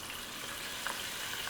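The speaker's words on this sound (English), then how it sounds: "And I can see that it's sizzling." Chicken pieces dusted with cumin, dried chipotle, salt and pepper frying in hot oil, giving a steady, dense hiss of sizzling with no pauses.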